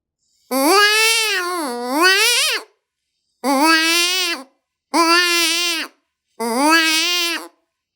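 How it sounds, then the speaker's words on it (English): An open-reed predator call blown in four wavering, cry-like wails, each pulsed by hand, separated by short silences. "I'm just going to blow a steady stream of air through the call"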